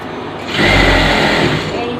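A motor-driven sewing machine starts up and runs with a steady, loud whirring drone for a second or so after a brief quiet start.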